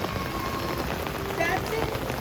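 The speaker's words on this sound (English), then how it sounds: "Another Disney day in the pouring rain." Pouring rain falls steadily on a theme-park resort at Disney, a dense continuous hiss of drops across the whole stretch, with faint background voices now and then.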